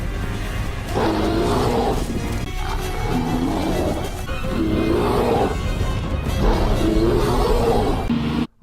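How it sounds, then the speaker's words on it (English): Bear vocalizations used as dinosaur sound effects roar and growl in repeated loud, rough bursts about every two seconds, filling the track continuously until an abrupt cutoff at the end. "The sound effects are also just bear noises."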